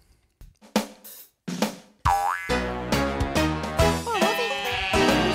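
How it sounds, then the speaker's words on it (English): Cartoonish boings and a playful bleating sheep sound out in a bright children's number song about a farmer's ten sheep in a pen. The bleats come as short, loud bursts with no talking. "Farmer Pete, he had 10 sheep"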